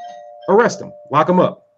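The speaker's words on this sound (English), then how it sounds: "That's my doorbell." A doorbell gives a steady electronic tone that runs under a man's speech, which comes in two bursts.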